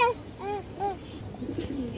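A pigeon coos nearby in a few distinct rising-and-falling calls, clear and close over a quiet background, then the calls trail off into faint rustling.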